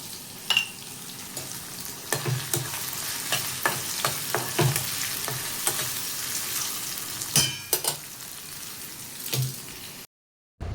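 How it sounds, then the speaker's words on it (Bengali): Okra sizzling in a pan with repeated scraping stirs at an irregular rhythm, close and clear, ending in a brief silence. "ভেন্ডি ভাজা করা চলছে"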